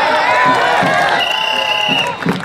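A crowd cheers and shouts loudly and steadily at a kushti wrestling match, with a whistle-like tone and some claps mixed in. A voice rises over the noise.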